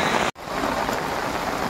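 Steady rain pours down in Power Colony, Ropar, a dense continuous hiss that cuts out for a split second before resuming at full strength.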